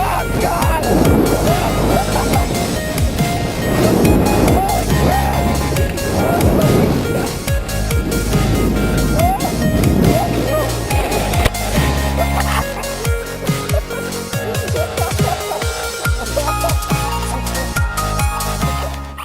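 A sled slides down a snowy hill in Portland, Oregon, during a February snowstorm, making a loud, rough rushing and scraping noise close to the microphone, with wind buffeting and people's voices mixed in.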